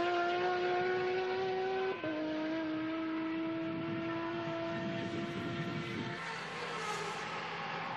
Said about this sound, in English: This is one of the best sounding cars in the pits, Chris. Listen to this thing as it swings past the grandstand